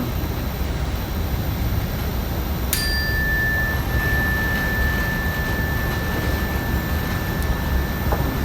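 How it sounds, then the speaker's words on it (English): A mindfulness bell is struck once, a sharp chime that rings on as a long sustained tone over a loud, steady rumbling background. "I'll just ring the bell once more."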